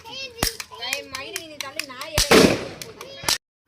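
Diwali firecrackers burst at home in a series of sharp, loud bangs spaced irregularly, with a voice talking in between and a denser crackling burst near the end.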